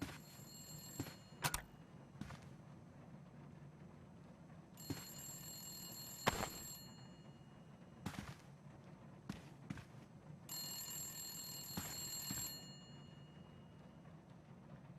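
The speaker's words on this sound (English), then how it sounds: "that phone's ringing, but I can't reach it." Telephone ringing in Saw 2: Flesh & Blood, a faint, bright electronic ring repeating in several bursts over a low ambient hum, mixed with occasional knocks, with no talk.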